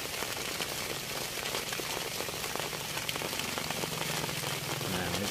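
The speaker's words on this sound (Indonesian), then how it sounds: "dan saat ini lagi hujan" Light drizzle falling steadily outdoors, a soft, continuous patter of drops on surfaces, faint and even throughout with no voices.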